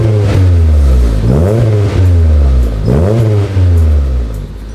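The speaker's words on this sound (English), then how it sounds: "let it warm up a tiny bit and then give it a couple revs and we'll see how it sounds" Honda Del Sol with a newly installed budget exhaust revving repeatedly, the engine note climbing and falling in three or four loud, close sweeps over a deep idle burble.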